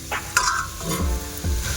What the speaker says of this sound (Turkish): Güzelce yıkayıp temizlemiş olduğum brokolilerimi de bırakıyorum içerisine.